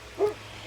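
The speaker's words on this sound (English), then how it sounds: "I don't know if you can hear my dog barking" A dog gives a single short, muffled bark from behind a closed door, a faint brief yelp against a quiet room.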